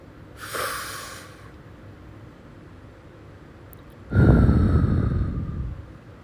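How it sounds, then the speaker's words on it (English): Two slow breaths during a morning prayer outdoors, a soft breathy inhale early on and a louder, longer exhale later, close and alone with no talking. "we're going to breathe in and breathe out and get our day started"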